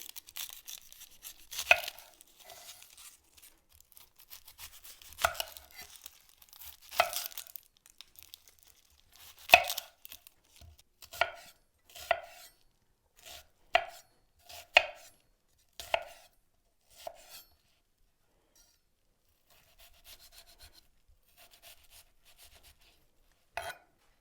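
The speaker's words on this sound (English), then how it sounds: "I'm gonna finely dice one whole onion." Knife finely dicing a whole onion on a cutting board, crisp close chops coming in irregular bursts and then steady single strikes, separated by quiet pauses.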